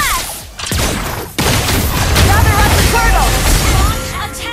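Rapid golden-bullet gunfire bursts from the hero Layla in the mobile game Mobile Legends, loud and dense with booming impacts, under energetic in-game voice lines.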